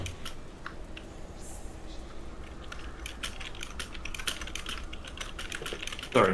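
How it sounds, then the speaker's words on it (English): Fast, steady clacking of keys on a computer keyboard, close and fairly loud over low room noise, with a louder knock at the very end. "I heard clacking and assumed that was you typing."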